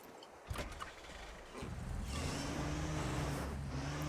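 A vehicle in Call of the Wild: The Angler starts up after a couple of clicks, its engine settling into a steady low hum that rises slightly and holds, with no one speaking.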